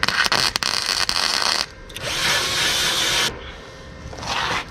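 Welding along the sides of a homemade ATV frame, a loud crackling, sizzling hiss in long sustained bursts broken by brief pauses, close and steady.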